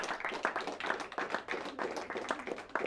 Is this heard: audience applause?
yes